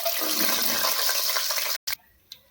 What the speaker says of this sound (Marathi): काजू बदाम आणि विलायची आपण तेलामध्ये फ्राय करून घेणार आहोत